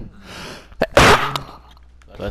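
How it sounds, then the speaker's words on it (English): One loud close sneeze bursts out during a group Minecraft play session, with short breathy sounds and faint voices around it. "So, is it my turn to sneeze?"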